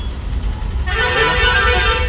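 Traffic jammed at Kochod bypass during rain, with a bridge-work diversion: a dense rumble of engines near and loud, then a long sustained vehicle horn blaring over it.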